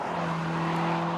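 A Lotus Emira powered by an AMG Mercedes four-cylinder engine of about 500 horsepower drives along, with a steady, close engine drone and tire noise holding throughout, unbroken by talk.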